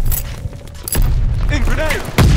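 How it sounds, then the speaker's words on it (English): Sticky bomb blast in Call of Duty: Vanguard multiplayer, with loud booming gunfire and explosive thumps, a sharp hit near the start, another at about one second and a heavy burst at the end, over steady battle noise and game voices. "Throwing a sticky bomb."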